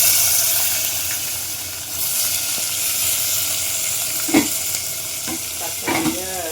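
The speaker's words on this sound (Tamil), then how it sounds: "தக்காளியை போட்டு வதக்கிட்டு" Tomatoes sizzle loudly as they sauté in a pan with curry leaves and green chillies, a dense continuous hiss up close. A couple of sharper stirring scrapes and clatters break in toward the end.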